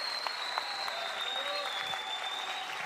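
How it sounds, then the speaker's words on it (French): Steady applause from a crowd at a political ecology meeting, a dense continuous patter of clapping that holds at an even level throughout. "Applaudir Nicolas"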